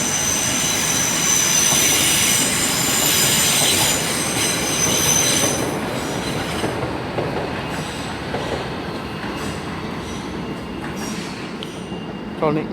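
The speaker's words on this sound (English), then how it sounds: "Departing out as Heathrow Express service 332004" A Heathrow Express train pulls out of London Paddington with loud, sustained wheel squeal and rumbling rail noise that gradually eases as it moves away.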